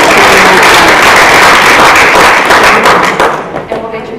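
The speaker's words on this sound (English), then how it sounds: "if you want to give them a round of applause" An audience at a talk on choice-based learning and gamification gives a loud, sustained round of applause, close and steady, tapering off near the end.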